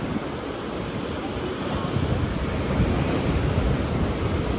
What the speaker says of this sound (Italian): Oceano Atlantico, vicino alla città di Vik,